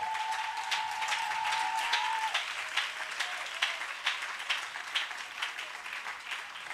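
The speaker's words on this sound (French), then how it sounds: "Acclame bien fort, acclame bien fort." A church congregation at a Sunday service applauds in a dense, continuous patter of clapping, with a brief sustained tone at the start and no clear speech.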